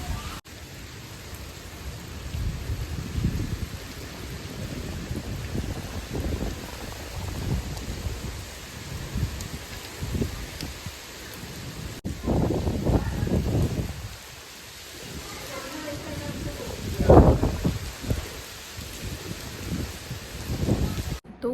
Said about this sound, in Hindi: देखिए जम के बारिश है। कितनी बारिश हो रही है, भयंकर।